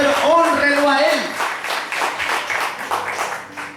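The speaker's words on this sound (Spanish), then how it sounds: "Denle un aplauso, por favor" A church congregation bursts into applause after a sung phrase, many hands clapping in a quick, dense patter that carries on and gradually thins, fairly close and loud.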